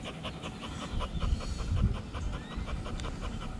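A pit bull dog panting after a walk, quick rhythmic huffing breaths repeating steadily up close, fairly quiet with no talking over it.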